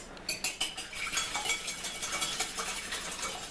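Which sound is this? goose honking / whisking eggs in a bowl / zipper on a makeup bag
whisking eggs in a bowl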